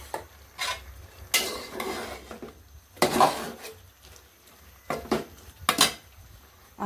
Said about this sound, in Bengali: এখন তরকারিটা কষিয়ে নিচ্ছি, আলু সেল দিয়ে রান্না করবো